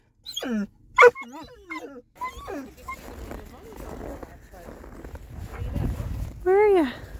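A dog whines and whimpers at a dog park, with high wavering cries early and again near the end, plus rumbling outdoor noise in between.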